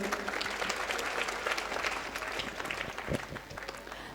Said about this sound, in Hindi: एक बार हमारे इस देश के भविष्य के लिए तालियां बजाइए जोर